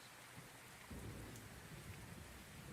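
Steady rain pours down with a low rumble of thunder rolling in underneath, a faint, dense ambient wash with no voices.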